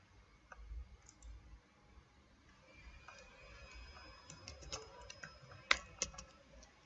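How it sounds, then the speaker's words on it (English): Keys clacking on a computer keyboard while a PowerShell command is entered on a Server 2012 R2 Core machine, soft scattered taps building to a denser, louder burst of clicks near the end. "Now we have to type the command"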